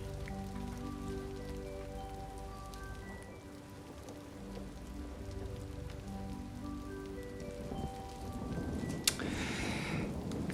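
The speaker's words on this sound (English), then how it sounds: "It's raining." Rain falls steadily in a soft, even patter that stays faint and constant under a low sustained tone, and the pour grows louder and heavier toward the end.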